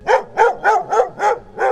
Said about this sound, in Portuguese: o latido de um cachorro de porte grande, sabe? Aquele latido bem alto.